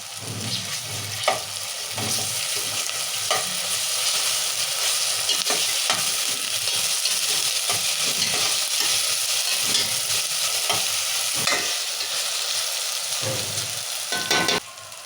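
Chopped ginger and garlic fry in hot oil for a quick rasam, a steady close sizzle lasting throughout with scraping stirs and clicks from a spoon against the pan.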